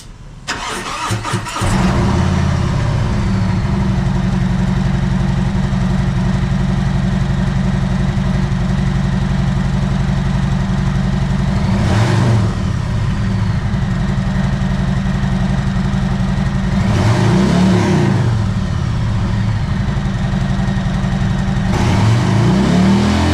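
A 2022 Harley-Davidson FLHXS Street Glide Special with ABS cranks and starts, then settles into a loud, close, lumpy idle broken by several throttle blips that rise and fall.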